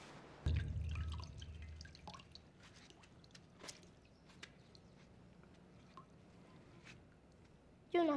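Holy water dripping and splashing as someone washes with it, a run of small wet drips and squishy trickles over a low background, fairly close and quiet, with a short tonal sound at the end.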